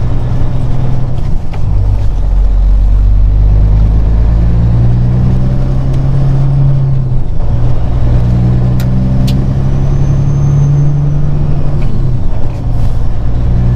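A semi truck hauling a Dorsey stepdeck flatbed trailer accelerates onto the interstate near El Paso, its engine a loud, steady low drone that rises as it gathers speed, heard from inside the cab with no talking.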